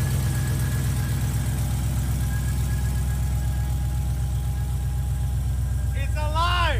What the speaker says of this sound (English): 707 horsepower supercharged V8 in a Nissan 350Z.